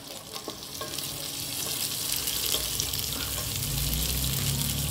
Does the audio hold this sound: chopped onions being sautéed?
yes